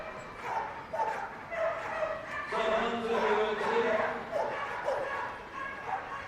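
Dogs barking and yipping excitedly at a flyball team competition at Crufts quarter finals, repeated overlapping barks in a noisy indoor arena beneath crowd noise and commentary.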